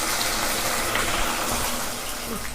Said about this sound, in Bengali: একটু ভালো করে ভেজে নেবেন মাছগুলোকে